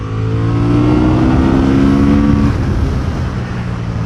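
A Honda CB750 Hornet motorcycle on a race track, its engine loud and close with a steady high rev whose pitch rises and then drops as the rider eases off, wind rush throughout.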